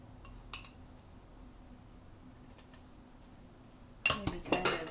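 Spoon or utensil clinking against a jar or bowl while spice is stirred into sauerkraut, a faint tap early on, then a burst of close, sharp scraping and clinking at the end over quiet room tone.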